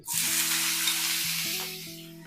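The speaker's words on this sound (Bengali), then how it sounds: "তেলটা গরম হয়ে গেছে আমি আলুগুলোকে দিয়ে দিচ্ছি" Potatoes frying in hot mustard oil, a loud steady sizzle starting at once and easing slightly toward the end, with stirring tones beneath and no talk.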